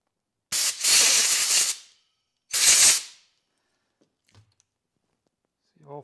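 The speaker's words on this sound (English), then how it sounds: "Some parts cleaner." Parts cleaner sprayed from an aerosol can onto transmission parts of a Toyota Tundra with a 4.7 engine: two loud, close hissing bursts, the first longer, followed by quiet and a few faint clicks.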